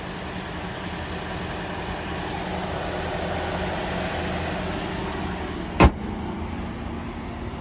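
A 2021 Toyota Sienna Hybrid's 2.5-liter naturally aspirated four-cylinder engine idles steadily with a low, even hum; a brief sharp click cuts through near the end.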